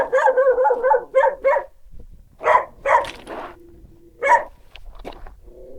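A dog on a hiking trail in Big Bend National Park barks close by in a quick run of sharp barks, then a few more spaced barks with short whines between, no talking.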